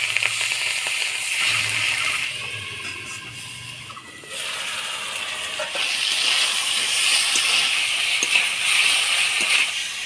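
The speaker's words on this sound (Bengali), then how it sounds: "এবার অল্প জল দিয়ে ঢাকা দিয়ে দেবো।" A little water goes into spiced papaya with chili and ginger paste in a covered pan, making a steady loud sizzling hiss and bubbling steam that continues throughout, briefly dipping before picking up again.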